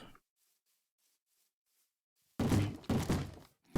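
Zombies in modded Minecraft (Enigmatica 2 Expert) bang on wooden doors, heard as a few heavy, muffled thumps close by, one at the start and a loud pair near the end, separated by near silence.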